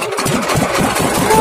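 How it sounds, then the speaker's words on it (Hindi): A tractor engine runs steadily as it is eased slowly down into a sugar cane field, a continuous mid-low rumble filling the whole stretch, close and fairly loud with no talk over it. "तो अभी धीरे धीरे ट्रैक्टर को नीचे लाया जा रहा है।"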